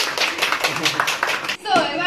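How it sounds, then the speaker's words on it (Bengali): Rapid applause from a small group at a family birthday celebration, a dense run of close, sharp claps that breaks off briefly, then a voice and talk take over. "হাততালি।"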